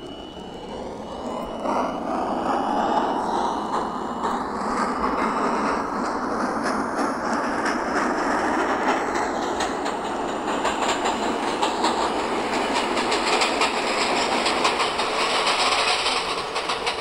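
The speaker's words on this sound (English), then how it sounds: "This is a Queensbound J local train." Queensbound J local subway train in the Hmmsim 2 video game, running steadily with a loud, continuous roar and rapid clickety-clack of wheels over rail joints, close by and rising slightly in pitch.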